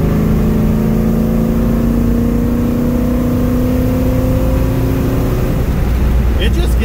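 A 1969 Pontiac GTO engine, fitted with MSD ignition, pulls hard while cruising, a loud steady drone whose pitch climbs as the car accelerates, with a person talking over it.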